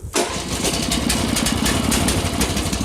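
A small 18 hp Weima 192FE-S petrol engine on a two-wheel tractor cranks and fires, then settles into a loud, steady chugging run close by.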